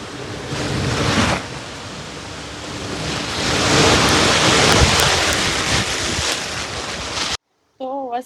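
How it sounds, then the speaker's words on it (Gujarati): Heavy downpour with a continuous broadband roar that swells mid-clip, loud and close, then cuts briefly to silence before a short burst of talk; no distinct thunder claps stand out. "ધોધમાર વરસાદ આવે છે."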